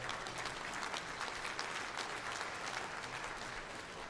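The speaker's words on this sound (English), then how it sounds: "give them a round of applause." Steady audience applause fills a convention hall at a livestock auctioneer championship awards ceremony, dense and continuous clapping from a large crowd throughout.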